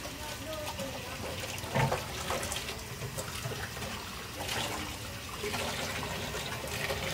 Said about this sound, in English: the water is running and it's quite loud